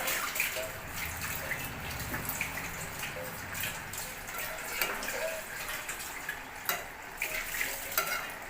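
Cabbage being stirred and sautéed in a pan, a steady soft sizzle with scraping and clinking of a utensil against the pan repeating at an irregular pace, close and quiet with no talking.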